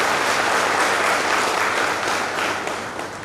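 A gathered audience claps loudly to welcome a speaker, a dense continuous burst of applause that holds steady and then tapers off slightly near the end.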